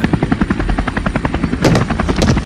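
A helicopter in a film scene thunders close and loud, its rotor beating in a steady rapid chop with a harsher burst near the end.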